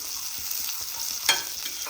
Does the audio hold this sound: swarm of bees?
no